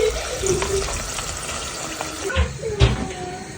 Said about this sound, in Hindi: चलिए जी, साग पक रहा है